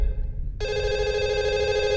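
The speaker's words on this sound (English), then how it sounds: "Oh, now the phone's ringing?" A telephone rings in the horror video game Fatal Midnight, a loud steady electronic ring that starts abruptly after a short quiet moment and holds continuously.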